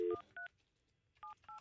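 Telephone keypad dialing tones on a radio morning show: a long tone, then several short dual-tone beeps spaced out with brief pauses, fairly faint and clear, with no talking.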